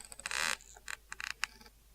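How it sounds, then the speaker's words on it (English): A swing creaks in a quiet setting, a series of short, faint squeaks and groans coming in uneven bursts with nothing else around them. "The swing creaked."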